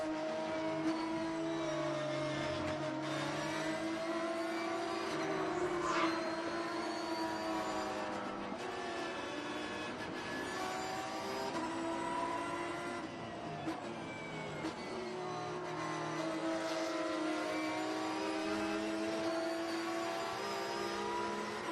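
Race cars in an IMSA-style race at Road Atlanta accelerate through Turn 1, engines roaring loud and sustained with rising and falling revs as several cars pass close together.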